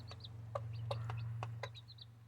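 Short clucks and chirpy calls from a small Americana hen repeat in uneven bursts over a steady low hum, close by with no talking.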